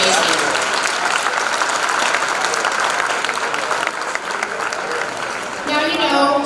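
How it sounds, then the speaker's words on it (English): Loud, dense applause from a sizable audience runs throughout, with a few whoops near the end. "once again, warm applause for Deana"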